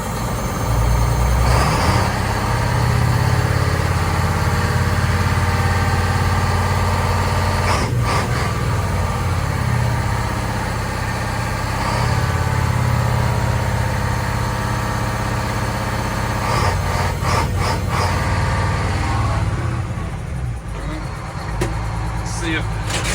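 A Detroit Diesel Loadstar truck engine idles steadily while building air pressure, a low continuous rumble broken by a few short bursts and hisses, with voices talking now and then over it.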